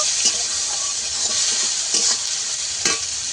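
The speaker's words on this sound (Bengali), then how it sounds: "একটা পেঁয়াজ দিয়ে দেবো পেঁয়াজটাকে লাল করে ভেজে নেব" Chopped onion frying in hot oil in a pan, a loud bright steady sizzle broken by a handful of spatula scrapes and knocks, close up and without talk.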